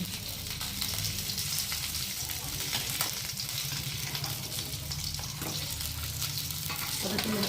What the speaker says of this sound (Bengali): আর একটু তেল দিয়ে ভেজে নেব